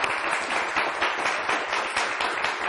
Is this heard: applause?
yes